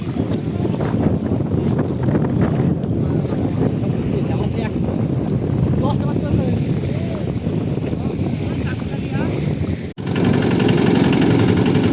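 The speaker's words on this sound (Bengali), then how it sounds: "দেখেন কত জোরে হাওয়া হচ্ছে" Strong wind roars steadily across the Padma river near a fishing boat, buffeting the microphone with heavy, continuous gusts and a low boat-engine rumble underneath, broken by a brief dip near the end.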